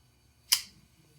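Poikilo Blades Komodo folding knife flicked open by its thumb stud, a single crisp metallic click as the blade locks, close and isolated against near silence.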